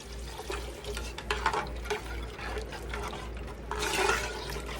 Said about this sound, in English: Now I'm going to add me some more water to it.